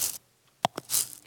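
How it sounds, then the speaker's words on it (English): Sound-effect shoes fitted with sandpaper soles scraping on concrete, standing in for footsteps on a sidewalk: a gritty hiss, then two short scuffing steps and a longer rasping drag, close and isolated. "I have some sandpaper on the bottom that I use in case they're walking on, a really concrete sidewalk"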